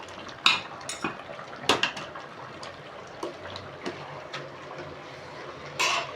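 A utensil clinks and scrapes against a pan as chicken curry is stirred to coat the chicken in masala, giving a few sharp metallic knocks with soft sizzling underneath and no talk.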